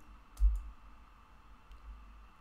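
A computer mouse clicks once, a small close tick with a faint second tap, then quiet room tone and a softer click near the end.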